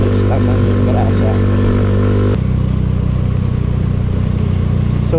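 Yamaha Mio Soul 125 scooter engine droning steadily while riding, loud and continuous with a shift in tone partway through, a voice talking briefly over it.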